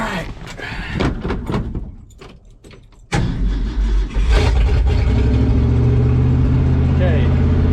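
A 1970 Ford F250 engine cranks and catches after a few seconds of clunks and rustling, then settles into a loud, steady rough idle close by.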